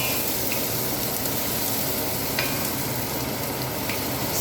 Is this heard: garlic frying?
yes